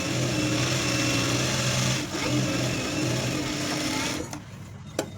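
A sewing machine runs a fast, even stitching whir along a blouse seam, close and continuous, then slows and stops with a couple of sharp clicks at the end.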